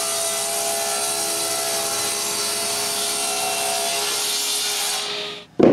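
A wooden stair riser is ripped lengthwise with a power saw, producing a loud, steady whine that holds unbroken for about five seconds before cutting off abruptly, with no talking.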